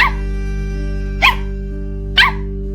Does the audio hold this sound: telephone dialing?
no